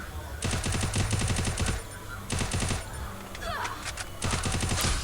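Automatic gunfire from the Free Fire video game comes in loud, rapid bursts of repeated shots separated by short pauses.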